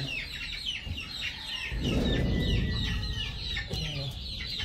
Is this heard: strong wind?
no